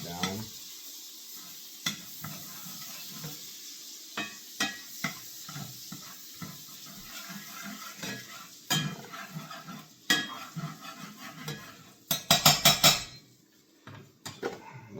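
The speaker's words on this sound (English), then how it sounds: "Scrape the pan. Get those good bits of bacon off the bottom that are left over." Metal utensil scraping leftover bacon bits and melted butter off the bottom of a pan, a series of irregular rasping strokes and clinks over a faint sizzle, growing into rapid vigorous scraping near the end; no talking.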